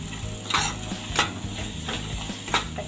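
Pav bhaji masala roasting in a pan while being stirred, a steady low sizzle broken by several brief scraping strokes of the spoon against the pan, close and fairly quiet with no voices.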